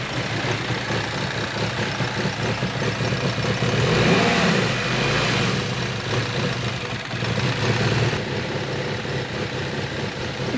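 A swapped junkyard engine running in a 2018 Subaru Crosstrek, a steady close mechanical hum with a slight rise in revs midway, no talking.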